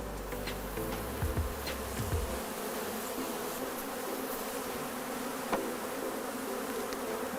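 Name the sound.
honeybees buzzing around honeycomb frames from hives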